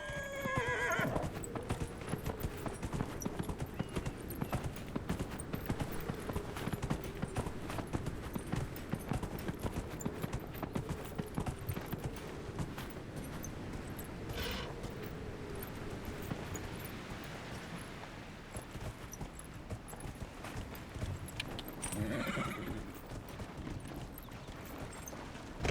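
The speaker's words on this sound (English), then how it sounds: "Horse. Horse." Steady clip-clop of horse hooves runs throughout in Dragon Age: Inquisition, with a loud whinny at the start and another neigh near the end, backed by ambient game sound.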